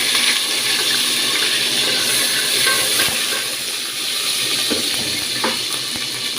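Curry leaves hit hot oil in a pan and sizzle with a loud, steady hiss and crackle, a few sharper pops standing out through the frying.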